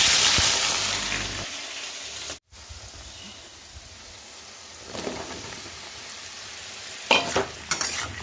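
Potatoes and parboiled young jackfruit fry in a pan, a steady soft sizzle with occasional stirring scrapes and clatters, louder bursts near the end.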